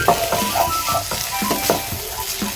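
Fish eggs fry with black pepper in a pan, a loud, close sizzle with repeated scraping stirs every half second or so, the spatula knocking against the pan under the steady crackle.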